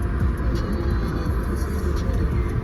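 A car drives along a road, a steady low rumble of engine and tyres heard from inside, loud and continuous with faint voices underneath.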